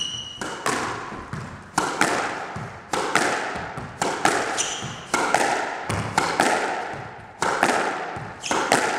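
A squash ball is struck hard and low against the front wall over and over. The racket hits and the wall impacts come as sharp, evenly spaced cracks in a fast, regular rally rhythm that sounds fairly close.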